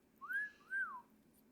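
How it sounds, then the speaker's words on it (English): Two quick, clear whistled notes from a person, each sliding up and then falling, close and fairly soft against a quiet room. "I shouldn't have whistled."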